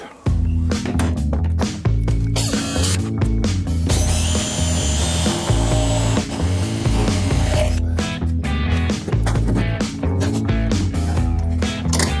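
A power drill whirs in repeated bursts with brief pauses, grinding loudly and close up while drilling holes in a metal truck canopy frame; no talking.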